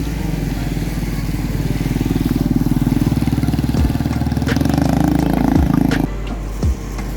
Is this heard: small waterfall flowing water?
no